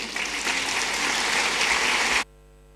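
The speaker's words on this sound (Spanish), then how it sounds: "¡Fortísimo aplauso!" Loud audience applause at a gala presenting festival queens and maids of honour, dense continuous clapping that stops abruptly near the end, leaving near silence.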